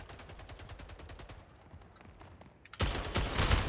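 Video game gunfire in a gun game mode, a rapid steady volley of shots followed by a sudden loud dense burst of blasts and noise toward the end.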